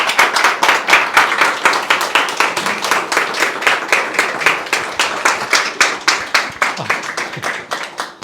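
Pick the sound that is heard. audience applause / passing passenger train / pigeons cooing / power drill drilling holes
audience applause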